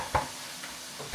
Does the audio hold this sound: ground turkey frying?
yes